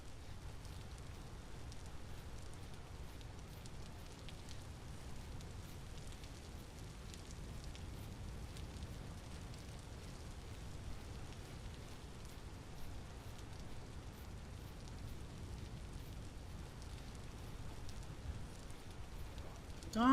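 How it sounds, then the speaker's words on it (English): Steady rain falls in the video game Vintage Story, a continuous soft hiss and patter at an even level for the whole stretch, with no one talking over it. "Oh, it's rain."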